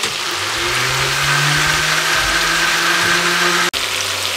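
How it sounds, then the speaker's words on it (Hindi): Electric blender grinding yogurt for white mutton karahi, a loud steady motor whir that rises slightly in pitch, cuts out abruptly, then resumes briefly. "अच्छे तरीके से दही को ग्राइंड कर लिया"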